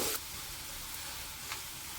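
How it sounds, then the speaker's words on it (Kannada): Chopped onions (two of them) hit hot cooking oil for an Andhra-style chicken dry, giving a steady, close, dense sizzle and crackle that continues without pause after a brief initial burst. "ಇದು ಎಣ್ಣೆ ಬಿಸಿ ಆದ ಕೂಡಲೇ 2 ಈರುಳ್ಳಿನ ನಾವು ಕಟ್ ಮಾಡಿ ಇಟ್ಕೊಂಡಿದ್ದೀವಿ, ಅದನ್ನು ಹಾಕ್ತಾಯಿದ್ದೀನಿ"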